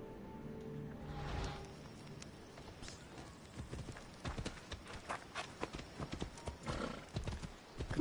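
Horse hooves clip-clop in the Assassin's Creed video game as the mount sets off, with a neigh near the start and steady hoofbeats that grow louder and more rhythmic.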